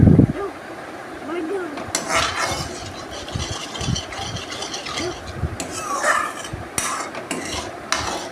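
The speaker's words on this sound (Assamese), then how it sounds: "খনাই লৰাই থাকিব লাগিব যাতে তলত লাগি নাযায়।" Chhena being stirred in a hot kadai, a spoon scraping and knocking against the pan in uneven strokes over a soft sizzle, close and fairly loud, with occasional voice in the background.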